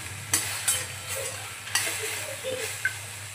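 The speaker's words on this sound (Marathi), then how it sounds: "यातलं पाणी सुटेपर्यंत आपण याला असंच परतून घेऊया।" Mutton pieces being stirred and sautéed in a pan for mutton sukka, a soft steady sizzle close by, broken by a few sharp spatula scrapes against the pan, with no talk.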